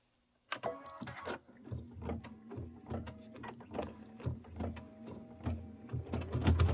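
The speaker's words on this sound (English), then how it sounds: "Stitch the bucket tack down line" A Kimberbell embroidery machine stitches a bucket tack-down line through cork taped to the hoop, making a steady, close, rapid mechanical chatter with regular needle pulses and a constant motor hum that runs alone without pause.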